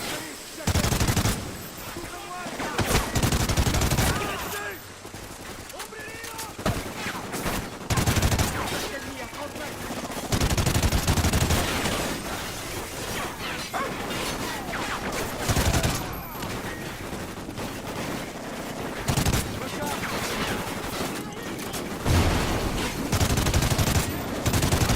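Dense Call of Duty Ghosts gunfire: rapid automatic bursts and repeated shots with explosions, loud and continuous for the whole stretch, mixed with game noise and occasional voices.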